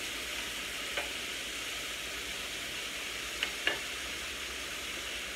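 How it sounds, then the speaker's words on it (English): Onions and peppers sauté in a pan on a stove, giving a steady, soft frying sizzle and hiss with a few faint clinks of a utensil, and no talking. "we're going to cook these until they get soft and till the onions get translucent"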